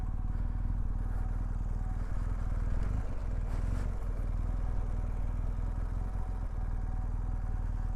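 A BMW R1250GS motorcycle rides a mountain trail in second gear, its engine giving a steady, close, loud low rumble that holds throughout with a brief rougher patch midway.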